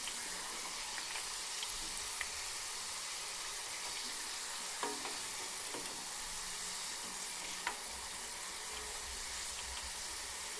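Onion frying in coconut oil for homemade hair oil, a soft steady sizzle with a few faint clinks of a utensil, heard alone and fairly quiet.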